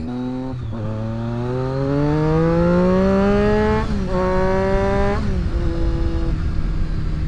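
A Triumph motorcycle engine revs on the road, its loud steady tone climbing in pitch through the gears with brief dips at each shift, close and continuous with no talk over it.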